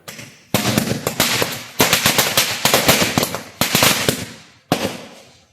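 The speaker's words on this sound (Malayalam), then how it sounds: "ഒരു പടക്കം പൊട്ടിക്കലുണ്ടായിരുന്നു" Firecrackers burst in rapid crackling strings during Vishu celebrations, several loud bursts separated by brief pauses, sharp and close.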